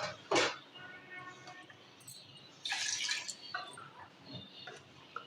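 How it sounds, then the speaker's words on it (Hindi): Water splashes into a pot of mutton masoor pulao with potatoes in two short bursts, the first sharp and the second a longer pour. Quiet stirring sounds fill the gaps. "मिक्स करने के बाद मैं इसके अंदर शामिल करूँगी 1 कप जितना मज़ीद पानी।"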